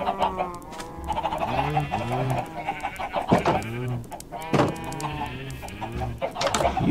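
Minecraft chickens cluck repeatedly in short bursts with rising and falling calls, moderately loud and close, continuing throughout with some overlap.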